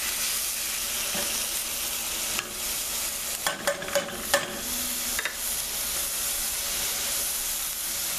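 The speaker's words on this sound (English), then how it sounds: "This is going to be deglazed." A pan of veal stew sizzles loudly and steadily close up as hot chicken broth is added to deglaze it, with a few scraping stirs and bursts of steam hiss partway through, and no voices.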